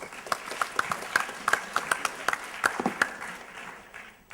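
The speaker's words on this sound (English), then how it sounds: "Big round of applause." Small audience at a marketing executives' panel discussion applauding, sparse distinct claps at moderate distance that fade out toward the end.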